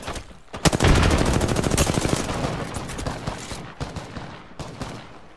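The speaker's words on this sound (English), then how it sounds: "Listen up, I'm getting shot at." Rapid automatic gunfire from an online shooter game, a dense sustained burst of loud shots filling the first few seconds, then sparser scattered volleys tapering off, with no talking.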